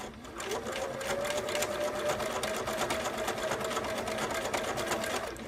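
A sewing machine runs steadily, stitching a quarter-inch seam on a four-patch pillow, its fast rhythmic needle clatter and motor whine continuing close and unbroken for several seconds.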